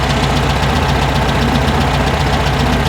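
A 1974 VW Beetle air-cooled engine idles steadily up close, running rich with a faint ping, giving a continuous, even mechanical chatter with a regular knocking rhythm and no talk.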